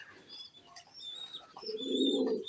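Domestic local pigeons kept in a small home flock give a soft, low rolling coo up close, with faint chirps in the quiet background.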